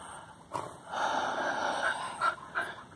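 Curious dogs on a riverbank near someone standing ankle-deep in the water give quiet snorts and breathy pants, a few short sniffing bursts over a soft, steady background hiss.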